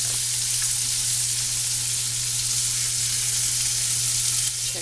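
Halibut frying in butter with lemon pepper and garlic, a loud, steady, close sizzle that holds evenly throughout with a low hum underneath and no voices.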